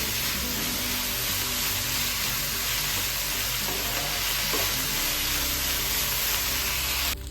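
Onions for a puff filling sauté in a pan, giving a loud, steady frying sizzle with faint stirring scrapes throughout, cutting off sharply at the end.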